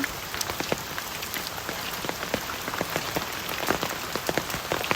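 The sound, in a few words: rain falling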